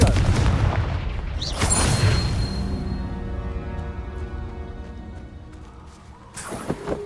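A Confringo fire spell explodes in Hogwarts Legacy combat: a loud booming blast near the start that rumbles and decays slowly, then another sharp crack toward the end.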